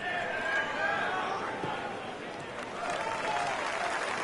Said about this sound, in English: Crowd seems to be loving it.